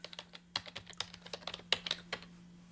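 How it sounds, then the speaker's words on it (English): A computer keyboard clacks close by as a command is typed, quick irregular keystrokes over a faint steady hum, with no talking. "Now I'm going to type the /address review."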